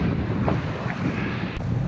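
Wind buffeting a bike rider on a misty, gloomy day riding in Cornwall: steady, close rushing wind noise against the microphone with low rumble and soft gusty swells, no talk.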